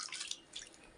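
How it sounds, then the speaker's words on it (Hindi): Water splashes and drips while honey is rinsed from the outside of a container in a Himalayan village kitchen, a short, close, soft trickle with light dripping and no talking. "अब इसके बाहर थोड़ा जो लगा है उसको हम साफ कर देते हैं पानी से"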